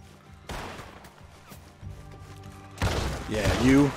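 Shotgun blasts in Red Dead Redemption 2, a loud double firing with a heavy boom near the end, after softer gunfire and thuds earlier in the game scene.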